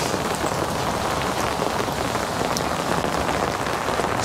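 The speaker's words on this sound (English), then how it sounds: "it's raining for sure." Steady rain falls during a motorcycle ride, a loud, continuous hiss of drops striking surfaces that never lets up, with no voices.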